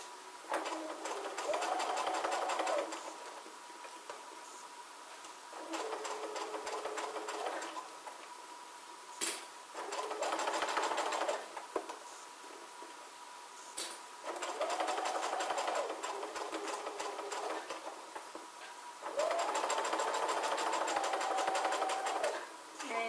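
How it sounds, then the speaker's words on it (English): A sewing machine stitching a fabric seam runs in several steady bursts of rapid mechanical whirring, each a few seconds long with short pauses between, fairly quiet and close, with no talk over it. "You get to the end, you back stitch a few stitches, cut and trim your threads on both sides"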